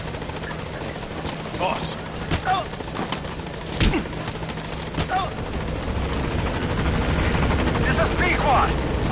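The Pequod helicopter arrives at a landing zone in Metal Gear Solid 5 with a steady, close rotor drone and sharp thumps, growing louder as it nears, beneath a radio voice speaking.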